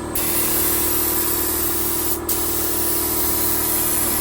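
A spray gun lays a first coat of Eastwood Boulevard Black paint onto a car in a home garage, a loud, continuous close hiss with one brief pause in the middle.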